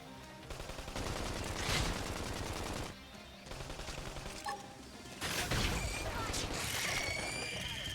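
Rapid bursts of gunfire from the video game Xenoblade Chronicles X, sustained machine-gun style fire running in long stretches with brief pauses, mixed with game effects and music.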